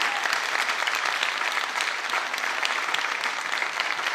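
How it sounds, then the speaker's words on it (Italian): A theater audience claps for six contestants at a Neapolitan talent show evening, a dense, lively burst of applause that holds steady across the whole clip. "adesso è il caso di fare un mega applauso a tutti e 6 i concorrenti"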